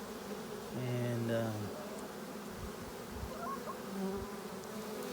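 A swarm colony of honey bees buzzes during a hive inspection, with one loud close buzzing pass near the start, then a softer background hum and a few light handling noises.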